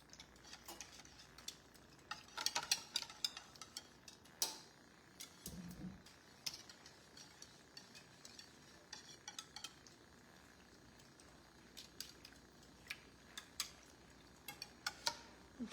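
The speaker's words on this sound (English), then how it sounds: "These eggs just don't want to mix in." Eggs being mixed for an eggs Benedict casserole make faint scattered utensil clicks and taps against a bowl, in irregular bursts with short quiet gaps and one brief soft thud partway through.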